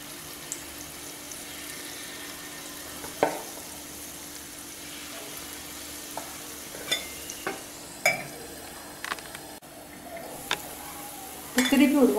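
Wheat sweet kuzhi paniyaram cooking in a paniyaram pan, a soft steady sizzle with occasional clinks and scrapes of a utensil turning the dumplings, a few louder knocks near the end.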